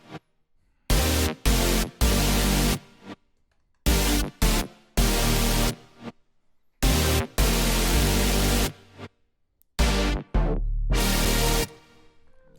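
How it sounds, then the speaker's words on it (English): Layered synthesizers sound together in a music production, loud dense chords cut into short rhythmic blocks with abrupt gaps of near-silence between bursts. "altogether the synths sound like this."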